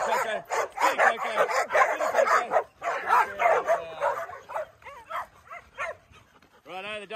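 A Labrador and a French Bulldog play with tug toys, letting out excited yips, whimpers and short barks close by, while a person talks over the commotion.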